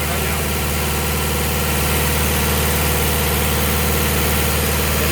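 Olin 575 concrete pump running, a loud continuous engine drone with steady mechanical vibration and hum, unbroken and close, with talk partly buried under it.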